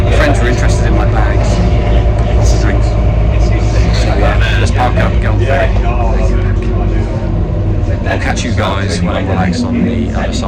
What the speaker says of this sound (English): now we're driving onto the ferry in a little bus